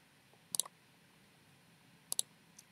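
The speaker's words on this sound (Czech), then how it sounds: "Kliknu na OK" Computer mouse clicks on an OK button while working in GIS software: two crisp double clicks about a second and a half apart, followed by one fainter click, close and quiet against a near-silent room.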